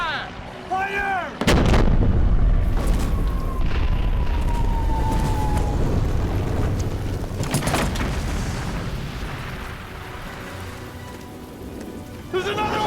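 Heavy gunfire and artillery booms in a war film battle scene: a sharp blast, then a long rumbling roar with further loud explosions and cracking shots.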